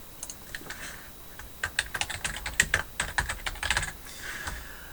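Rapid bursts of keystrokes on a computer keyboard as a new template name is typed, close and clear, with irregular clusters of clicks and short pauses, no voices.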